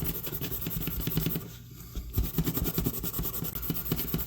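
A Scotch-Brite pad rubs the Delrin handle of a small vintage knife in quick back-and-forth strokes, a close, steady rasping scrub with one brief pause midway.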